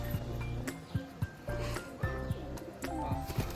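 Pigeons, including a green-coloured hen, coo in low, throaty, repeated calls close by, with a few light clinks and chirps mixed in.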